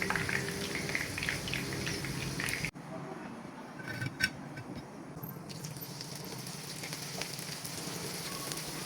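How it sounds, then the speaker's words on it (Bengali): Chicken chops for a Ramadan recipe fry in hot oil with a steady, close, dense sizzle throughout, briefly dipping quieter before the crackle resumes. "এবার বাকি চপগুলো একইভাবে ভেজে নেব"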